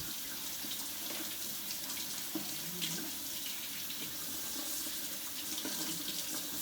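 Tap water running steadily into a kitchen sink as food is washed, a constant close rushing splash with light clatter, no talking.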